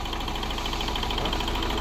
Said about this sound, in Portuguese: Vocês estão vendo que ela tá com um falhamento tremendo aí no motor.